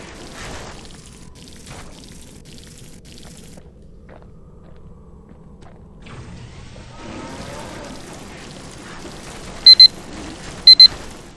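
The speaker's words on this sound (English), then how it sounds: "Alright, so you heard the alarm go off." An alarm going off in the video game Bastion, a few brief bright electronic beeps in pairs near the end, over soft game ambience and music.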